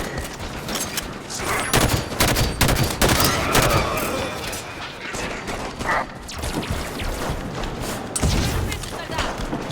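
Dense gunfire from Halo 5 campaign combat on Legendary difficulty, with repeated sharp shots and bursts over nearly ten seconds, loud and close amid busy game action and occasional voices.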